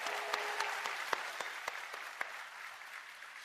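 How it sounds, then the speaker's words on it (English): A keynote audience claps in a short burst of applause with scattered sharp individual claps, fairly faint and distant, tapering off after a few seconds. "if you want to give him a round of applause for participating"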